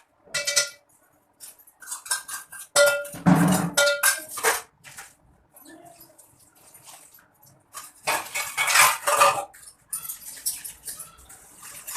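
Steel dishes and utensils clatter and clink in irregular bursts during washing at home, with splashing water and metallic scrapes, close by and fairly loud, with brief quiet gaps.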